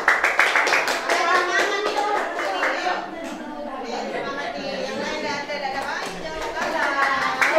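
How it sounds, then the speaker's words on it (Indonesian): In a classroom session, a group of people claps in quick, distinct rhythmic bursts, loud and close, while children and adults talk and chatter over and between the claps. "Ayo tepuk tangan lagi."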